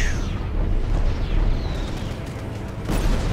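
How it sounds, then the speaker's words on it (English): A missile launches and detonates in the space combat game Strike Suit Zero, a sustained roaring rumble with a whooshing streak and a fresh burst near the end, loud and continuous. "Let me fire a missile at him."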